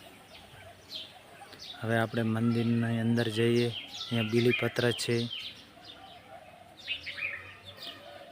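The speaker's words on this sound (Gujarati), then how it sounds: "પક્ષીઓનો કલરવ" Birds chirp and twitter in the trees around a Shiva temple in Lalpura village, light calls scattered throughout beneath someone speaking nearby.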